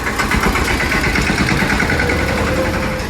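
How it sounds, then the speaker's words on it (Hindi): A small tractor engine chugs close by as it drives past, a loud, steady low throb with a faint rising tone toward the end, and no voices. "भाई छोटा ट्रैक्टर है, इजीली निकल गया"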